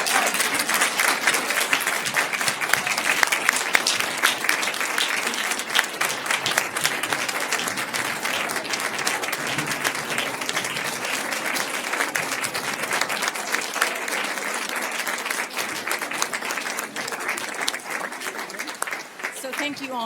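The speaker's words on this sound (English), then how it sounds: "May I ask that we have one more round of applause for our 2025 Human." Audience applause at a human relations awards ceremony: a long, steady round of crowd clapping that stays dense and even throughout, with a voice speaking over it toward the end.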